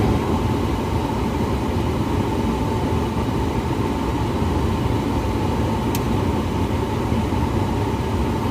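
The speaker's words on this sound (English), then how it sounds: "Sorry for the noise in the background. Got the air conditioner going." An air conditioner runs steadily in the background, a constant broadband whoosh and low hum with no break, fairly loud and close, with no one talking.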